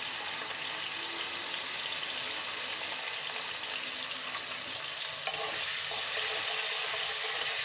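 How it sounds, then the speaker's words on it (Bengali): Potatoes fry in a pan of hot oil, giving a steady, dense sizzle that holds at an even level throughout with a slight bump near the end, with no voices. "ভালো করে আলুটা একটু ভাজা করে নেব।"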